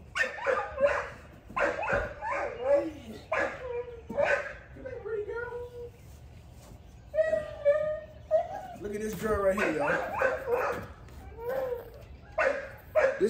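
Puppies from a litter bark and yip in short bursts throughout, mixed with whimpers, while someone talks nearby over them.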